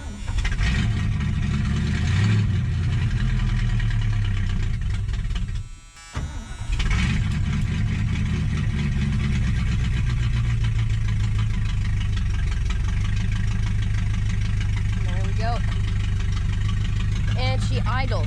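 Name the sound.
old Mercury car engine idling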